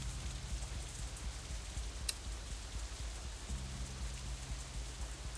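Rain falls steadily outside in the Katawa Shoujo video game, a dense, even hiss of drops with a low rumble beneath and one brief sharper tap. No one speaks.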